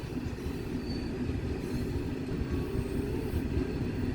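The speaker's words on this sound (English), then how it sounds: "What sound is the train make?" A train rolls past steadily and fairly close, with a continuous rumbling roar and faint wheel squeal throughout and no break in the noise.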